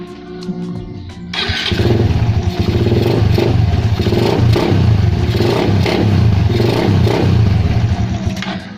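Honda Raider 150 motorcycle fitted with a 28mm Pitsbike carburetor, starting up and running loud and close with a rough, pulsing idle and slight revving.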